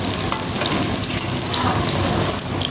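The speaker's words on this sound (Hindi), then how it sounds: "देखिए ये भिंडियाँ हमारी फ्राई हो रही हैं।" Okra (bhindi) frying in oil in a pan makes a continuous, dense sizzle with fine crackles, close and steady throughout, with no voices.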